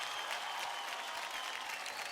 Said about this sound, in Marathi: अरे देवा, बाप रे, जोरदार टाळ्या होऊन जाऊ द्यात